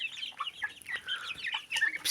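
Two-month-old chicks cluck and chirp in quick, overlapping bursts, close and fairly loud, with no talking.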